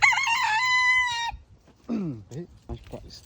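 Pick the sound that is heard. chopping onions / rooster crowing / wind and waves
rooster crowing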